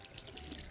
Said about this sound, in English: Just gonna put some hot water to it.